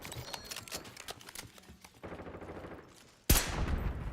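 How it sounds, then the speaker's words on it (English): Rapid automatic gunfire in the Call of Duty video game, dense bursts of close shots that pause briefly, resume, then end in a loud blast. "I may not be accurate, but damn, I shoot a lot of bullets."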